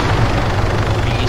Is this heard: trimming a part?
no